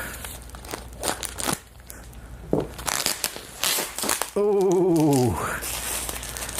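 Plastic packaging crinkles and crackles as it is handled and cut, with a brief squeaky tonal whine near the end, close up.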